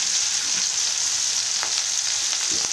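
Sliced onion and thin green chillies fry in a pan for rice rava upma, giving off a loud, even sizzle with occasional stirring clicks and no talk.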